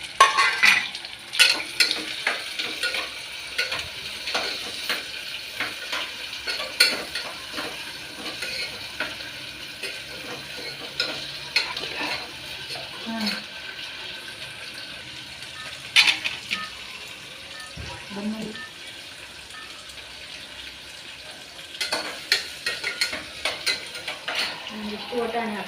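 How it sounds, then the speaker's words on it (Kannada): Chopped onions and potatoes fry in a pan, a steady hiss of sizzling oil broken by repeated scraping and stirring clatter from a utensil against the pan, close and continuous. "ಉಳ್ಳಾಗಡ್ಡಿ ಬಟಾಟಿ ಇವೆಲ್ಲ ಹಾಕಿ ಫ್ರೈ ಮಾಡಿಬಿಡ್ತೀನಿ"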